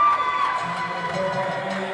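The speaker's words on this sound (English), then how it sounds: "Great crowd here today in the Watershed in Kilkenny." A crowd cheers loudly at a women's volleyball grand final in the Watershed venue in Kilkenny, a brief swell of shouting and whoops that fills the hall.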